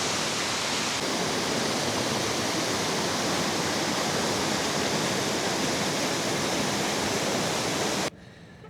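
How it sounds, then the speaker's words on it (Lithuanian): A waterfall pours in a steady, loud, broadband rush heard up close with no talk, then cuts off abruptly near the end. "Šlapės krioklys šiek tiek."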